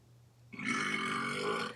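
A Google Home smart speaker plays a recorded burp sound, a single long loud belch of over a second that starts abruptly after a quiet pause.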